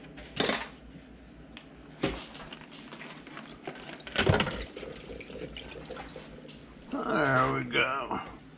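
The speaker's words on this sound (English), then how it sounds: "so I'm hoping cold tap water will do the trick" Cold tap water running into a kitchen sink, with cutlery and dishes clattering around it, a louder splashing burst near the end, and a person talking at moments.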